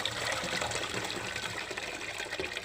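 Water poured out of glass jars of home-canned tomatoes, a steady close gushing splash running the whole time with no voices.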